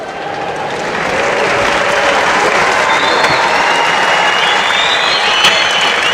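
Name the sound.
judo championship crowd applauding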